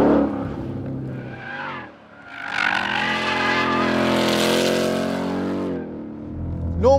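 A 2021 RTR Ford Mustang accelerating hard into a drift, engine note rising and holding at high revs with tire noise, loud and close, then easing off.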